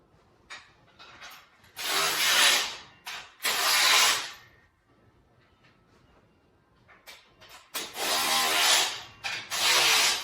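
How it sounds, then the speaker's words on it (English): Combination wrench tightening hex bolts while assembling a RitFit M1 Smith machine, with bursts of loud ratcheting and scraping metal separated by quieter pauses, close by. "Get your combo wrench to tighten up the hex bolts."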